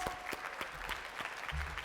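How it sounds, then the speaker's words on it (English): Audience at an apprenticeship awards dinner gives a round of applause, a dense, steady patter of many hands with sharper individual claps standing out, moderately distant and with no talking over it. "Give our employers a massive welcome, a round of applause."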